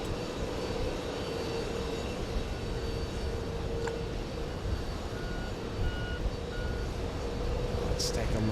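A Finnair airliner arriving at JFK airport gives a low, steady engine rumble at a distance, with intermittent high beeps from ground vehicles and a faint voice in the background.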